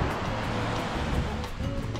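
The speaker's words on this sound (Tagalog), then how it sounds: "Sarap ng sound ng waves ng dagat." Sea waves wash steadily against a sunny shore, a continuous loud roar of surf with wind noise buffeting the microphone throughout.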